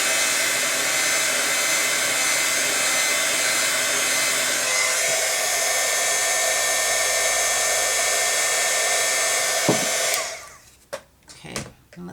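A heat tool blows with a steady, loud airy roar while melting embossing powder on a die-cut image, then cuts off near the end, leaving a few faint handling clicks and knocks.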